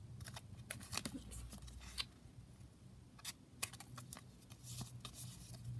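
Scissors trimming paper for a foldout craft booklet: a series of quiet, close snips and crisp cuts in an irregular rhythm over a faint background hum, with no talk.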